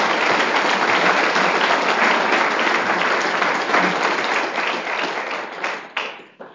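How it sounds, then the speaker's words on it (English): Sustained audience applause at a community meeting on quantum topics, steady dense clapping filling the room at full strength before tapering off in the final second. "maybe some applause for our audience"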